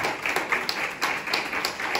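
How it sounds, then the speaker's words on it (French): An audience at a network day event in Marseille claps for a team, brisk rhythmic applause from a small crowd that stays steady and fairly close, with no voices over it. "je voudrais que vous applaudissiez cette merveilleuse équipe"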